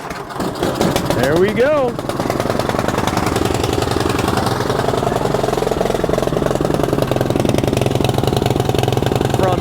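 An Ariens Platinum 24 SHO snowblower engine is pull-started, catching after a brief rising crank, then settles into a loud, steady chugging idle that fills the rest of the clip, with someone speaking briefly.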